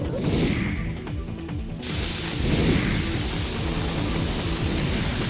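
Heavy rain pours down in Delhi as a steady, dense downpour, with rumbling surges and splashing bursts rising and falling over several seconds.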